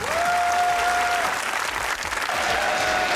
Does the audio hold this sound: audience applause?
yes